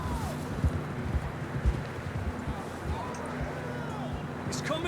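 Horses' hooves clip-clopping in the video game Red Dead Redemption II, a faint irregular patter of hoofbeats under low background noise and scattered voices.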